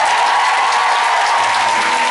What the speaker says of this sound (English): So give them a big cheer.